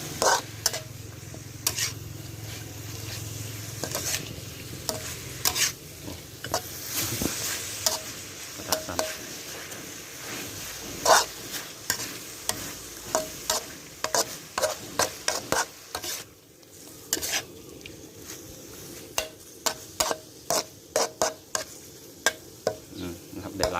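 Eel stir-fried with herbs and holy basil sizzles in a pan while a utensil scrapes and taps against the metal in a quick irregular rhythm, close and continuous throughout.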